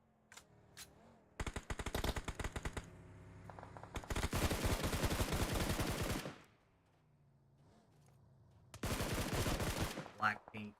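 Rapid automatic gunfire from a battle royale video game, several loud bursts of rattling shots separated by quieter gaps, with a commentator talking over it.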